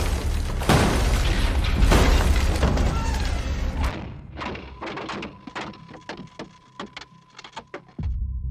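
Gunfire in a tense combat scene from the November 1988 battle for the Maldives: a loud sustained burst and heavy thuds, then a run of sharp separate cracks and bangs at irregular intervals, close and echoing.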